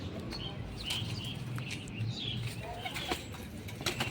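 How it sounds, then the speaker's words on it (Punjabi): Domestic pigeons gathered at a water dish to drink, with soft coos, light wing flutters and occasional chirps close by over a steady low rumble of background noise. "ਲੋ ਜੀ ਲੱਗ ਗਿਆ ਪੀਣ ਸਾਰੇ ਕਬੂਤਰ"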